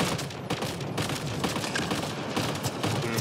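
Rapid automatic turret fire from a Mass Effect: Andromeda firefight, a dense continuous rattle of shots with bursts of other weapon noise, loud and steady throughout with no talking.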